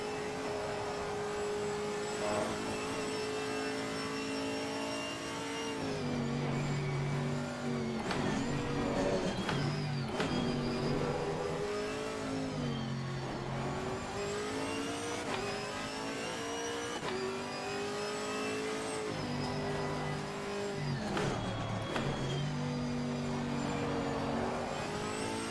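A Chevrolet Camaro GT4 race car in Assetto Corsa Competizione at Bathurst Mount Panorama revs continuously, its engine note climbing and dropping through repeated gear changes and braking zones in a steady, close, loud drone.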